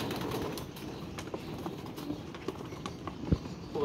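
Pigeons kept for pigeon flying coo softly among a low murmur of bird sounds, with a few faint taps and one brief sharper knock nearby.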